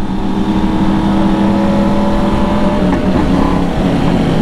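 Loud, steady engine drone with rising revs from a convoy of over 300 motorcycles running together close by, no talking.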